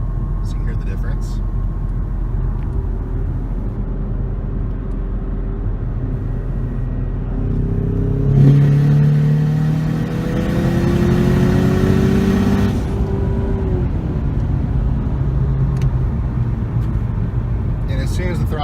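A Ford Mustang EcoBoost fitted with an SBD external wastegate revs once, rising from a steady idle into a loud, broad surge with a rushing wastegate dump, then falls back to a quieter idle.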